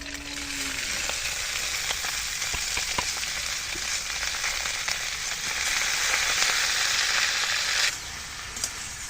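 Leafy greens frying in oil in a pan with tilapia, onion and green chilli, a steady loud sizzle with occasional stirring scrapes and a brief hiss surge near the end.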